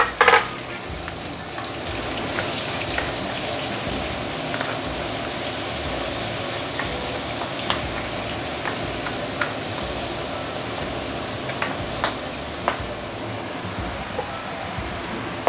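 Shallot, ginger and garlic sizzle loudly in hot pork fat, a dense continuous frying crackle up close with scattered pops and stirring scrapes.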